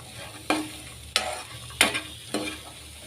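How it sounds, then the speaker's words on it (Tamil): A spoon stirs masala sundal made with chickpeas, chopped tomato and onion in a pan. Four separate scraping strokes come at a steady, unhurried pace, close and moderately loud, with no talking. "இப்போ இதே நல்லா கலந்து விட்டுடலாம்"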